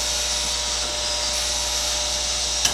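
A Chevalier 2A618 hydraulic surface grinder runs steadily with its spindle spinning, making a continuous loud, even whir and hiss with a small click near the end.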